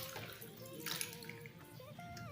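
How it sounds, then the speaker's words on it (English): Two glasses of water are poured into a blender for a carrot and avocado drink, a continuous faint splashing and trickling with no talk. "I'll be adding just 2 glasses of water into the blender."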